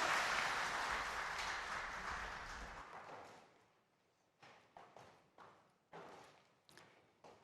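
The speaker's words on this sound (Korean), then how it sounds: "하나님께 영광의 박수 올려드리겠습니다." A church congregation at a Sunday worship service breaks into applause that swells loudly then fades out, followed by a few scattered, sharp individual taps or thumps near the microphone.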